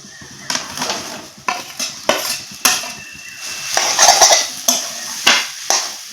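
Grated potatoes with ground turmeric and ginger are stirred in a pan with a metal spoon, giving repeated scraping knocks and clinks against the cookware over a low sizzle, close and fairly loud.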